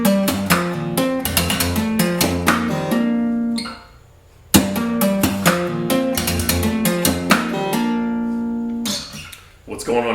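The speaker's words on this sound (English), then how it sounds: "and then we begin our left-hand hammer-ons with percussion" Acoustic guitar played solo with left-hand hammer-ons mixed with percussive body taps, a steady rhythmic run of bright plucked notes, close and loud, with a brief pause midway before the pattern resumes.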